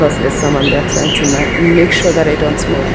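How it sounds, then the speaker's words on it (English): Birds chirp and tweet outside on an airport's no-smoking terrace, scattered bright calls under a steady hum of ambient noise while a person talks over them. "Can you hear the birds chirping?"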